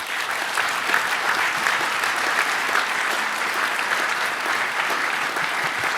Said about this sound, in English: So to Peter, a big round of applause,